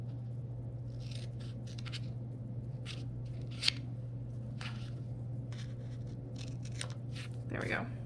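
Scissors trim paper for a planner page, making a series of short, crisp snips at irregular intervals over a low steady hum, with a slightly louder snip partway through.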